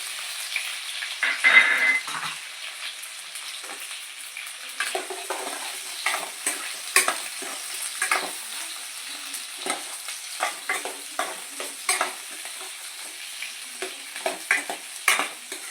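Capsicum and onion frying in a pan for chicken masala gravy: a soft continuous sizzle with repeated scraping stirs of a spoon, fairly close and unaccompanied by talk.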